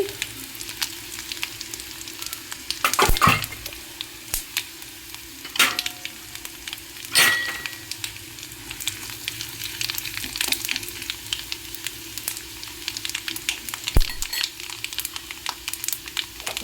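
Steady, crackling sizzle of cumin and mustard seeds frying in hot oil, with occasional louder pops and scrapes of a spoon stirring the pan.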